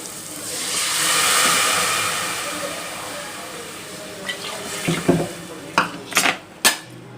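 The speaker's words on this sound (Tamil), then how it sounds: "தண்ணி ஊற்றுவோம்" A broad rush of water pours into a metal pot for cooking rice, lasting a few seconds, followed by several sharp clanks of metal utensils against cookware.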